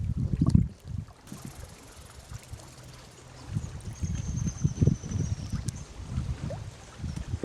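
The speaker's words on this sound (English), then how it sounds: "Sailing along the shoreline of Bear Island." A sailboat glides along the shoreline of Bear Island on Lake Temagami, with water lapping and splashing against the hull in uneven bursts under steady wind rush, and no voices.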